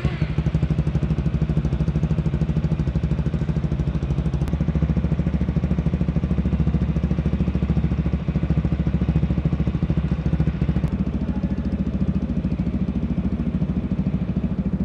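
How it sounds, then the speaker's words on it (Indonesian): Modified Yamaha XMAX scooter with an Akrapovic exhaust running after start-up, a steady close idling engine thrum with a fine rapid clatter throughout, no talking over it. "Sekarang kita coba nyalakan motornya. Seperti apa nanti penampakan dari lampu-lampunya, dan kita dengar bunyi dari knalpotnya."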